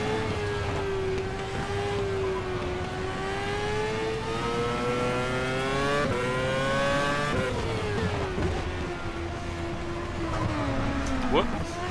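A stock car engine in the Game Stock Car sim, a Brazilian Stock Car racing game, drones steadily at high revs with rising and falling pitch through shifts, loud and continuous, while a voice talks over it.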